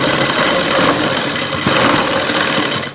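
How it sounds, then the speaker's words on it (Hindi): A sewing machine runs steadily while stitching a neckline seam, producing a loud, close, continuous mechanical whir with a fast, even rhythm throughout and no talk. "इस तरीके से हम सिलाई लगाते जाएंगे"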